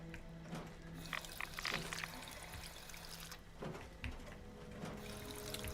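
Water is collected in the video game Fallout 76, heard as a faint, continuous pouring and trickling wash under low background noise.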